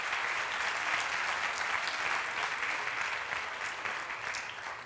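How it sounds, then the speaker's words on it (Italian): An audience at a book presentation applauds, a dense, steady wash of many hands clapping that holds throughout and tapers slightly at the end, with no talk over it. "E quindi farei un applauso prima di tutto per Librixia e Confartigianato."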